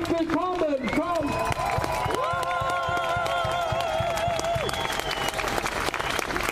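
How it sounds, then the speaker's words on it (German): Applause from a crowd at an outdoor German protest rally, steady clapping continuing under a voice speaking and tonal sounds over it. "Einen riesen Applaus für die linken Hetzer, für diese Bewegung."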